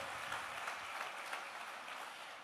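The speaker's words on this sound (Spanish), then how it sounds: "Dele un fuerte aplauso al Señor" Congregation applause during a church sermon, a soft, distant and even wash of clapping that holds steady for the whole stretch without voices.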